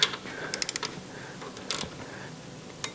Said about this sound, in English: and tighten my two 6mm bolts.